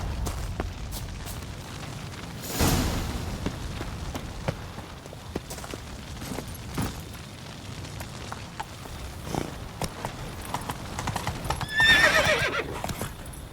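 Roach, a horse in The Witcher 3, gallops with a steady clip-clop of hooves across the whole stretch, and whinnies twice along the way, once near the start and once louder toward the end.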